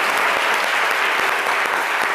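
A studio audience claps for a young rapper and future communications doctoral student on a midday radio show. The applause is dense and steady, close and fairly loud, with no speech over it.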